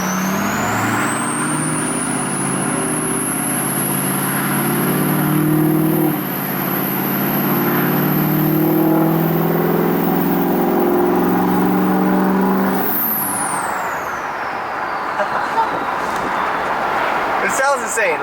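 Heard from inside the cab, a truck engine drones loudly and steadily while driving and turning, with a high whine that climbs and then sweeps down near the end.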